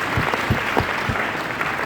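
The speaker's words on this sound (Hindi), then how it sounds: "जोरदार ताली।" Loud, brisk applause from an audience at a network marketing training seminar, dense clapping with a few sharper claps standing out, continuous through the short moment.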